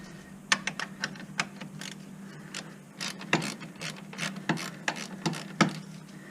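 A ratchet clicks in quick bursts while loosening the brake caliper bracket on a Chevy Malibu, several short runs of sharp, close pawl clicks separated by brief pauses, with no voices.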